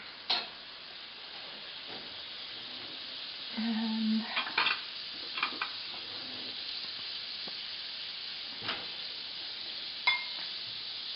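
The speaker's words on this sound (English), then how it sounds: "I'm going to put some butter on here, and it should start to melt and kind of sizzle" Butter melting and sizzling in a hot frying pan, a quiet steady crackle with a few sharp clinks of a pan or utensil, and one brief spoken word.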